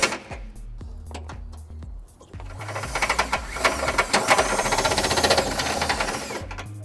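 A power drill with a step bit enlarges holes in the frame of a 2021 Honda Accord for a trailer hitch, first pulsing in short bursts, then grinding steadily and louder through the metal before easing off.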